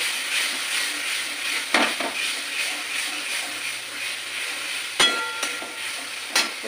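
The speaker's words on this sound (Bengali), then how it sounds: "দিয়ে আবারও আমি একটু নেড়ে চেড়ে নেবো।" A spoon stirs tomato, chilli and turmeric in a pan over a steady low frying sizzle, with occasional sharp scrapes and clinks against the pan.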